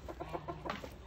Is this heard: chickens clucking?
yes